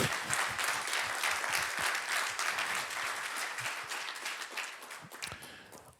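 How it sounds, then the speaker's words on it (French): Church congregation applauding in encouragement for the pastor: loud, sustained clapping from many hands, with distinct individual claps punching through, fading out at the very end. "J'aimerais entendre un applaudissement d'encouragement pour le pasteur au cas où."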